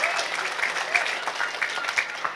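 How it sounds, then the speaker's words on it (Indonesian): Brief applause from a crowd at an Islamic religious gathering in Cilacap, steady clapping with scattered voices mixed through it. "saya minta tepuk tangan sepindah malih"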